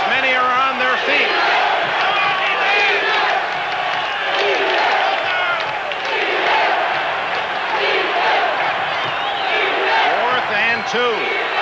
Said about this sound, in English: Listen to this crowd as many are on their feet.